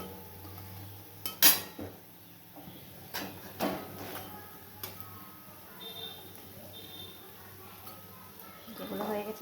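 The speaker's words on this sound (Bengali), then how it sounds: "বড়াগুলো হয়ে গেছে ভাজা, এবার তুলে নেব।" Fried drumstick-flower fritters are lifted out of a pan over a low flame. A few sharp metal clinks and clatters of a utensil against the pan stand out over a faint background sizzle.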